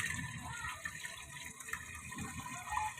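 Faint water drains into a street drain, running and gurgling quietly, a soft trickling flow with small splashy bursts, low in level.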